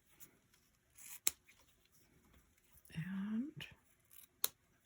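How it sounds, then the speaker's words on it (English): Two sharp ribbon scissor snips cut through ribbon, close and crisp, separated by a soft rustle and a brief spoken word. "Let me grab my ribbon scissors."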